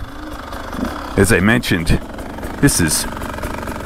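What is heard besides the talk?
Beta 300 Race Edition dirt bike engine running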